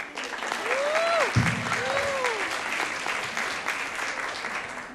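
Steady audience applause fills the room at a live event on Fisher Island, an even wash of many hands clapping throughout, with a couple of brief voices rising over it near the start.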